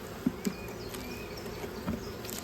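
Honey bees buzz softly around a small new colony with a fresh queen, a faint continuous hum with a couple of brief louder passes close by.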